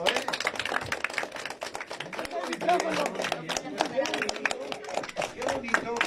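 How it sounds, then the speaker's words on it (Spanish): School students from the Juan Bosco school applaud at a radio station in Nogales, dense rapid clapping throughout, close and steady, with voices mixed in. "A ver, denle un fuerte aplauso"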